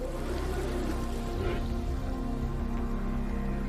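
Steady rain shower falling on an outdoor African savanna landscape, a continuous close hiss of drops on the ground with a low rumbling background, with no voices.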